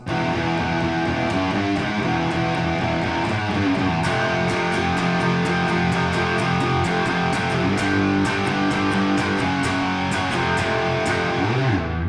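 A distorted electric guitar riff plays continuously with a full band at the verse-to-chorus transition, dense and loud throughout, with steady cymbal hits above it.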